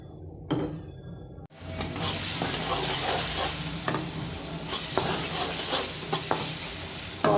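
Shrimp frying in a pan gives off a loud, steady sizzle that starts abruptly and carries on, with brief clinks and scrapes from stirring scattered through it.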